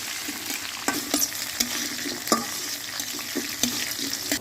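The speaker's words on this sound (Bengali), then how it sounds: "রসুন আর কাঁচামরিচ। এখন একটু লাড়িয়া একটু লাল লাল করুন।" Garlic and green chilies with cumin seeds frying in a pan and stirred, a steady close sizzle broken by sharp scrapes and clicks of the spoon against the pan, with no voices.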